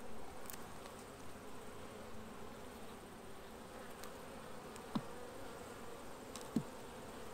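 Honeybees working a hive frame during an inspection give off a soft, steady buzzing drone. Two brief knocks rise above it near the end.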